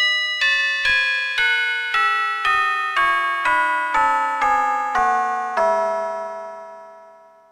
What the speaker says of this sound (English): And an even longer peal can be rung with all 12 bells.